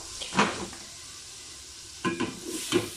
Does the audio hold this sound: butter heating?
yes